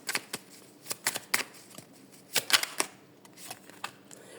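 Tarot cards are shuffled and drawn in a quiet room, producing a string of sharp papery snaps and soft riffling rustles at uneven intervals, close and fairly faint.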